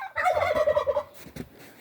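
A close, short burst of chickens calling, a warbling run of clucks followed by a couple of brief squawks, with no talking.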